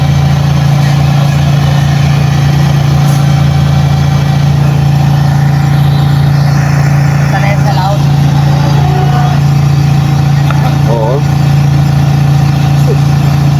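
A backhoe's diesel engine runs steadily beside a river fishing spot, a loud constant low hum with faint clanks and noises over it, while people talk through most of it.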